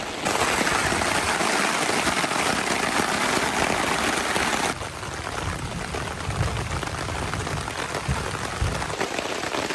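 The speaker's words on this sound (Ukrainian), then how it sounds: "Та я тільки ж дощу дождався." Rain pours down in a forest, a dense, unbroken hiss of drops on leaves and ground, loud and close, easing a little partway through with no voices.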